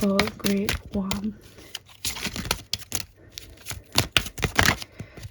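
Tarot cards are riffled and shuffled by hand in quick papery bursts and crisp slaps, close and fairly loud, after a short stretch of a voice talking.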